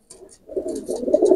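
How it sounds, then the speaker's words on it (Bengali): A pair of healthy pigeons, the female close to laying, coo softly and repeatedly up close, with rising throaty murmurs and no talk. "এই দুইটা কবুতর দেখেন"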